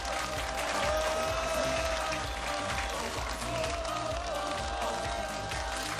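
A studio audience at a Chinese televised matchmaking show claps in a dense, continuous wash of applause, loud and even throughout, with faint tonal music sitting underneath.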